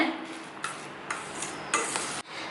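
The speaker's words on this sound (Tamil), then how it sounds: "தயிர் சேர்த்து நல்லா மிக்ஸ் பண்ணி விட்டுக்கோங்க" Curd is stirred into cooked rice for a tempered curd rice, giving soft wet scraping and stirring strokes in a few short bursts, close and moderately loud with no talk.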